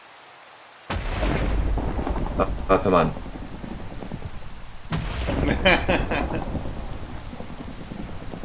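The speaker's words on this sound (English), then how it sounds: "Stormy weather enabled." Stormy weather in Minecraft brings a sudden loud thunder crack over steady rain, with a second rumbling thunderclap a few seconds later while someone briefly speaks.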